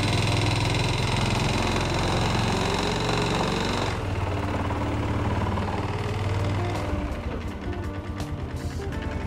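A Yamaha Jupiter motorcycle engine runs steadily at idle, close and loud. The tone shifts partway through and continues as an even, buzzing drone with no talking.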